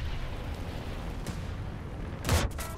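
A tank cannon fires once in a video game, a loud close boom with a brief sharp rumble rising out of steady engine and battlefield noise near the end.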